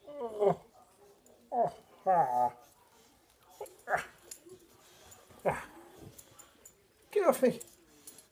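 A dog whimpers and yips in several short bursts, each a second or less, with quiet gaps between them, heard close up and fairly loud.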